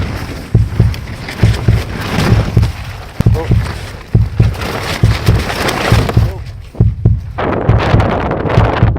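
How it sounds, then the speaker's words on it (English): Strong wind in Pisgah National Forest buffets the microphone in loud, gusting bursts, with rhythmic thumps and rustling, and a short calmer lull near the end. "pretty windy, super cloudy outside, and but yeah, it is windy"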